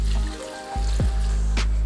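Water poured into a pot of smoked collard greens, a short splashing pour with a couple of sharp clunks, close and alone over a low background hum.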